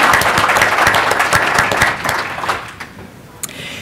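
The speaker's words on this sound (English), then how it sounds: "Let's give it a round of applause and welcome Dr." Audience applause at a big data conference session welcoming a speaker, dense close clapping from a room of people that tapers off toward the end, with a single sharp clap near the close.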